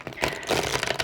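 Tarot cards are shuffled by hand in a quick, close riffle of dense papery flutter and light rattling, lasting about a second.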